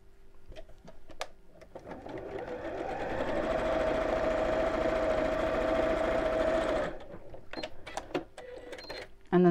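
A sewing machine runs a 1/2 inch seam on a raggy patchwork cushion cover, a steady humming whir of a few seconds framed by small clicks and handling noises before and after.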